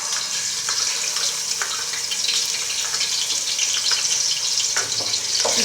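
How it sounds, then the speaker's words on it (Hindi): Ginger garlic paste frying in a pan, a steady close sizzle with faint scattered ticks and scrapes throughout, no voices. "अब इसमें अदरक लहसुन का पेस्ट ऐड करेंगे।"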